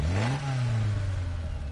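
An aging car engine in Gran Turismo Sport, racing against a Suzuki Swift, revs up with a rising pitch and then settles into a steady, loud, slightly chuggy drone.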